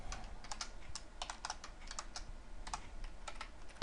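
Someone types C# code on a computer keyboard, quick irregular clusters of crisp key clicks, close and fairly quiet, with no talking.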